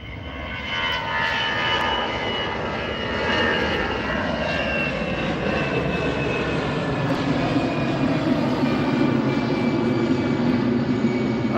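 A jet airliner takes off at Manchester Airport, its engines roaring in a broad, sustained rumble from a distance, steady and unbroken with a faint rising whine throughout.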